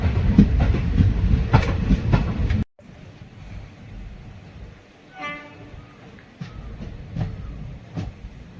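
Intercity Express train running on rails between Haripad and Kayamkulam, heard with a steady loud rumble and rhythmic clatter, a brief drop in noise, then quieter rolling with repeated metallic clicks and a faint whistle-like tone.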